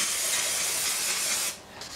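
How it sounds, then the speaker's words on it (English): Brake cleaner sprays in a steady aerosol hiss onto a flywheel during a GT40 engine build, loud and close for about a second and a half, then cutting off, with a brief shorter spurt just after. "Sweet, clean it up with a little brake cleanage"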